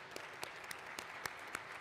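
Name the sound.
audience applause for employees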